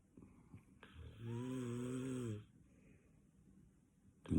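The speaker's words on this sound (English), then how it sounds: "my girlfriend's snoring on top of me right now" A woman snores once in a long, drawn-out, buzzing inhale, close and fairly quiet, with soft breathing before and after and a brief noise at the end.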